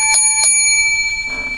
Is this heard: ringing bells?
yes